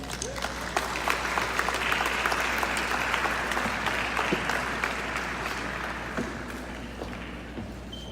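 Sustained, loud applause from an audience welcoming Cate Noble, CEO of the Varkey Foundation, at the Global Teacher Prize event, steady clapping that swells and then gradually thins out.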